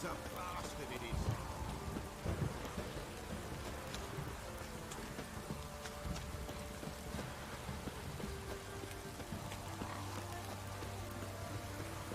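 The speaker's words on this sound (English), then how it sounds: "This downpour's a bastard" Heavy rain pours down in the video game Witcher 3, a steady hiss of falling water with scattered droplet patter running throughout, while a voice talks faintly beneath it and a low hum enters toward the end.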